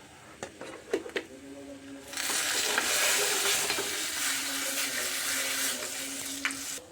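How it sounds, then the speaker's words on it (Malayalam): Chillies, curry leaves and chilli powder hit hot oil for a pulissery, bursting into a loud, steady sizzle after a few light clinks, and frying on continuously to the end. "മുളക്, കറിവേപ്പില, ഒരിത്തിരി മുളക് പൊടി ഇടാം."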